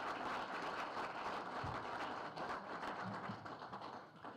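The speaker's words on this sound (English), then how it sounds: "let's ask for a big round of applause for Laura Callahan" Applause for a woman being honored at a Milford Area Chamber of Commerce event, a steady, moderately quiet wash of clapping from the room that holds through and fades slightly at the end, with a couple of soft thumps.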